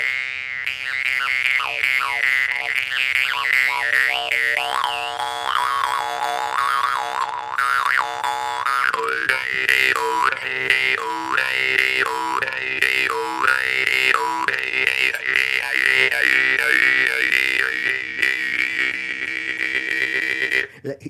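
A jaw harp twangs continuously with rapidly shifting, vowel-like overtones shaped by the mouth, played loud and close with a steady drone and changing rhythmic patterns throughout, no talk.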